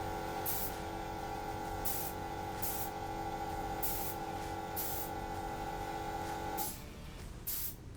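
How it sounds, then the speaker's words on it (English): Short bursts of spraying black latex hiss in a loose rhythm over a steady mechanical hum. The hum cuts out near the end, and nobody speaks. "You'll usually want to do 1 layer of black latex sprayed onto your piece"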